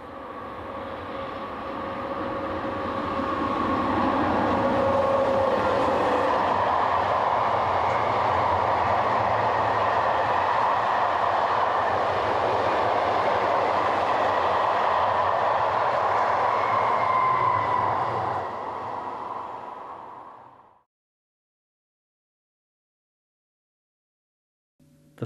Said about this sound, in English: loco number 7231 heads this northbound train of empty car transporter wagons